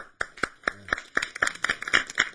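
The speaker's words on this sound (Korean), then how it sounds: "우리 저분을 위해서 박수 해드려야 돼요" A run of sharp, evenly spaced hand claps, about four per second, sounds close and distinct, with no talking, as a small audience applauds during a lecture.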